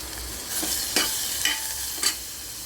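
Garlic fries in a little oil for moong dal amti. A close, steady sizzle plays alone, broken by three or four quick scraping stirs of a spoon.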